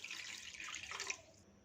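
About two cups of water poured into a pan of chicken pieces give a soft splashing pour for over a second, tapering off near the end.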